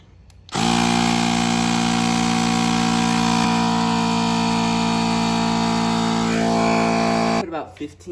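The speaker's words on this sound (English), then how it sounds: "put some air into the tire" An electric pump inflates a bike tire fitted with a sealant inner tube, starting abruptly with a loud, steady mechanical whine that holds for about seven seconds before cutting off, close and alone.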